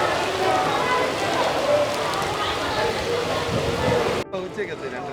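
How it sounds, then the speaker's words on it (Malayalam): Heavy rain driven by strong wind, heard on a road trip from Trivandrum to Velankanni, makes a loud, steady, dense hiss that roars without a break before dropping off abruptly near the end. "കിടിലം മഴ, നല്ല മഴ, നല്ല കിടിലം കാറ്റ്."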